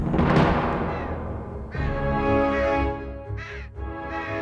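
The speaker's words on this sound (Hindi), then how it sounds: "कौवा चिल्ला रहा है।" Crows caw several times, loud and harsh, with short repeated calls standing out clearly over a quiet background.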